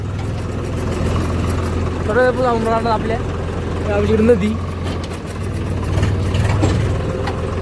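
A tractor engine runs steadily through a rural morning ride, a constant low rumble beneath a voice talking over it and other family voices nearby.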